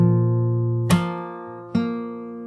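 Fingerstyle acoustic guitar plays part of a song's verse, with sustained ringing open strings and two distinct plucked notes struck about a second apart, close and clear.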